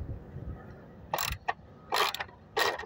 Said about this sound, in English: I'm just gonna use a socket for those two